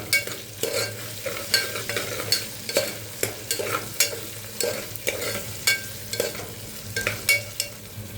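Tomatoes frying in a pan for arikelu biryani, a steady close sizzle broken by regular scraping strokes of a spoon stirring, with no talking.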